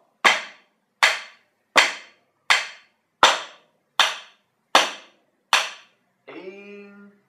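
A drum figure is played on the rim, the skin and the floor as eight sharp, evenly spaced taps, close and crisp, followed by a short voiced sound at the end.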